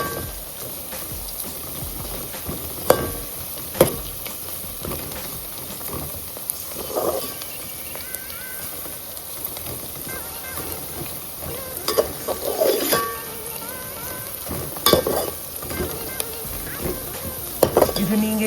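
Ground tomato paste with mint frying in a pan for tomato biryani, a steady close sizzle and hiss with intermittent scraping stirs and occasional clinks of the utensil against the pot.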